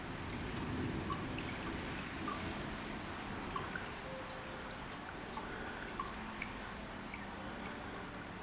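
Steady rain falls outdoors during a May thunderstorm in Eastbourne, a soft continuous patter with scattered drips at moderate distance and no speech over it.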